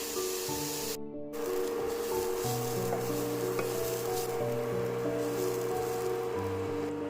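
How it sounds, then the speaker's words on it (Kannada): Grated carrot fries in ghee in a pan, a steady close sizzle with occasional stirring scrapes and a brief louder burst near the start. "ಇದನ್ನು ನೀವು ಚೆನ್ನಾಗಿ ತುಪ್ಪದಲ್ಲಿ ಹುರ್ಕೋಬೇಕಾಗತ್ತೆ"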